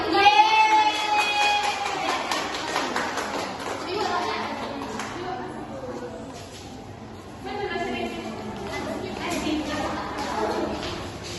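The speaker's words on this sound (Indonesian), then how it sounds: "tepuk tangan semua" A third-grade elementary class claps their hands in a rhythmic patter while children's voices chant and talk over it, fairly close and lively.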